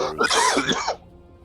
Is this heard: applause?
no